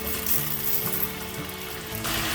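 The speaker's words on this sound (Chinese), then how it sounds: "油热了，放入马铃薯来炸" Potato pieces frying in a small pot of hot oil, giving a loud, steady, close sizzle and crackle with no voice over it.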